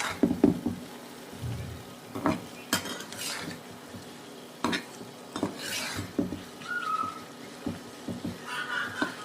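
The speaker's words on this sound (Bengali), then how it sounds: "এবার ঢাকনা খুলে নাড়াচাড়া করে নেব।" A lid comes off a pot of grass carp fish curry cooked with cumin, then a metal spoon stirs it: repeated clanks and scrapes against the pot over a soft, steady sizzle.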